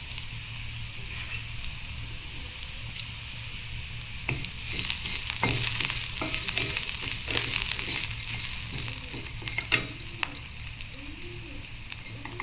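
Fenugreek and cumin seeds frying in hot oil for mutton curry, a steady close sizzle with brief crackles and faint stirring clicks throughout.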